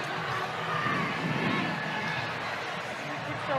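A large, vocal sellout crowd of softball fans in Portland, roaring steadily and densely throughout with cheering and shouting, loud and continuous, with an announcer talking over it.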